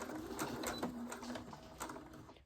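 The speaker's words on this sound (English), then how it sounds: "I'm gonna make sure to do a back stitch when I start." Sewing machine running steadily as it stitches a makeup bag, with a fast, continuous mechanical whir and patter heard close and fairly quiet.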